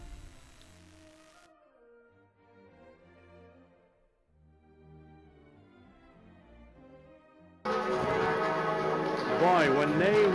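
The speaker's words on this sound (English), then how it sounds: "when they ring the bells here, they really ring the bells" Church bells peal in a European town below a castle, a resonant layered ringing that swells, then becomes a loud, dense clangor of many bells near the end.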